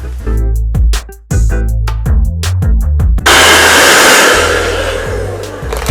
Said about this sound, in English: take my tail comb with my blow dryer on high